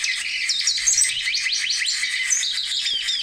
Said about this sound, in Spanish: Lesser goldfinch, Spinus saltria.